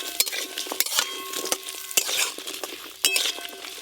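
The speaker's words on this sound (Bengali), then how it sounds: "এদিকে এই গোটা মশলাগুলো ভাজা হতে হতে মাছে লবণ হলুদ মাখিয়ে নেব" Whole spices fry in a pan under a low sizzle, while a metal spoon stirs with repeated sharp clinks and scrapes against the cookware.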